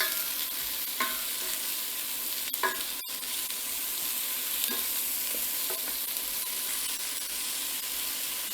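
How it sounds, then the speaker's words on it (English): Salted mixed vegetables for a vegan vegetable biryani are stirred in a hot pan: a steady close sizzle runs throughout, broken by a few sharp spoon scrapes and knocks. "Give it all a good stir."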